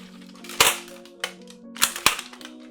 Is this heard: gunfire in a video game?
yes